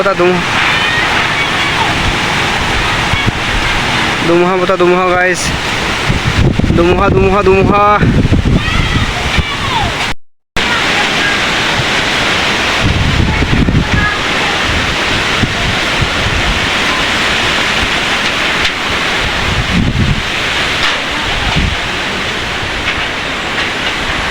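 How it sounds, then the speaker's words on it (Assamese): Heavy storm wind buffets the microphone in a constant, loud roar, with people talking over it for a few seconds. "কেনেকুৱা আমাৰ ইয়াত ধুমুহা বতাহ বলিছে"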